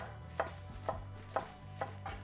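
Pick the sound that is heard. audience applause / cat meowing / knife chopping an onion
knife chopping an onion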